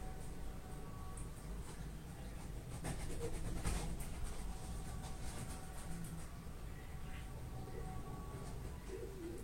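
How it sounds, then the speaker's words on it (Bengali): Soft pigeon cooing amid a busy, noisy background hum, with a brief louder rustle partway through; no clear talk. "বক্সের থেকে কবুতরটা বের করলো, এখন খাঁচার ভিতরে ঢুকাচ্ছে"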